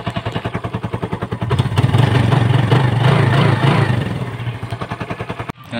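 A Yamaha motorcycle engine, neglected and just brought back to life, runs with a rapid pulsing idle that swells into a louder, steadier roar for a few seconds before settling back to a chugging idle and cutting briefly near the end.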